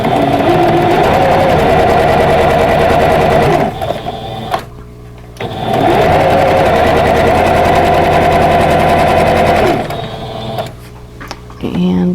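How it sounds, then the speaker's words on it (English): A sewing machine stitches a seam on a vintage Baby Bunting quilt block, running in two long steady whirring bursts separated by a brief pause, close and loud. "go ahead and sew that seam"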